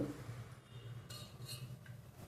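Spoon stirring curd into lukewarm milk, soft faint scraping and light clinks against the vessel, a few quiet taps over a low background hum.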